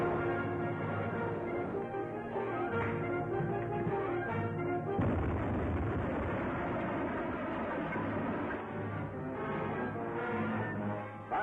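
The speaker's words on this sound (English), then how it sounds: "Torpedo one fired, sir." A torpedo launch from a submarine in a 1945 film serial: a dense, loud mechanical roar with a sudden heavy surge midway, sustained rumbling and booming throughout, with no voices.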